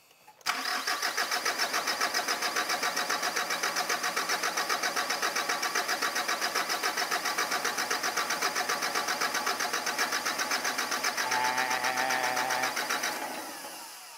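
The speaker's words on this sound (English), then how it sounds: "Yeah, I'm still cranking." A fire-damaged tow truck engine cranks steadily on the starter for about thirteen seconds, a loud, even rhythmic churning that never catches and then stops, with no talking.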